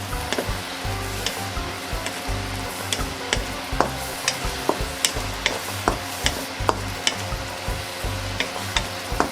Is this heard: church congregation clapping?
no